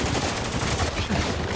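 Dense, continuous gunfire from the video game Spec Ops: The Line, rapid automatic bursts filling the whole short stretch at a steady, loud level.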